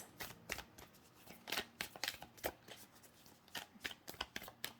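Moonology oracle cards being shuffled in quick, crisp riffling bursts and soft slaps, close and fairly quiet, repeating irregularly without any talking.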